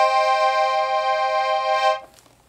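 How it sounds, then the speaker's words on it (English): Black Brandoni Piccolo piano accordion, musette-tuned with wet tremolo treble reeds, holds one sustained bright chord for about two seconds before cutting off, close and alone. "It's a musette tuned accordion, a relatively wet musette."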